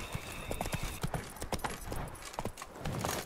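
Horse hooves clip-clopping at a steady walking rhythm in the video game Witcher 3: Blood and Wine, close and distinct with a faint soft background.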